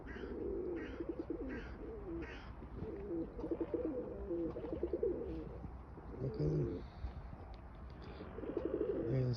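Pigeons at an outdoor coop coo in repeated soft, throaty phrases, several birds overlapping at close range with occasional higher chirps over a quiet background.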